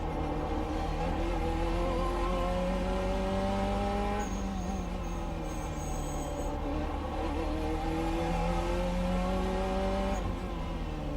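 Corvette C8.R GTE race car in iRacing, its engine droning loud and continuous with rising and falling pitch through gear changes and a brief tire squeal midway.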